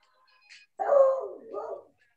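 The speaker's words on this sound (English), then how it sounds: "The dog's happy to be here." A happy dog gives a single drawn-out bark that trails into a whining yelp, clear and close, after a faint brief sound, with no talk over it.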